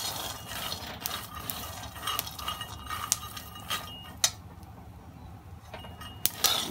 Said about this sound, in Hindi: देखिए पटपट आवाज निकल रहा है, ये भुन गया है